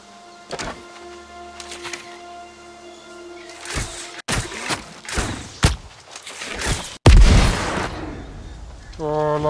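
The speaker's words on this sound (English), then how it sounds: "Love the explosion." Game sounds from New World, with several sharp broadband impacts, including one big burst near the end, over tonal music and effects, like a loud explosion going off amid combat.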